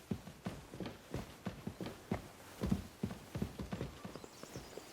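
Horse hooves clip-clop steadily on the ground in the video game Kingdom Come: Deliverance 2, a brisk, evenly spaced series of fairly soft hoofbeats heard alone for several seconds.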